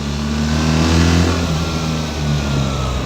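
A BMW GS 1300 motorcycle engine pulls hard on the road, its mid-pitched growl climbing steadily in a loud, continuous surge of acceleration heard up close.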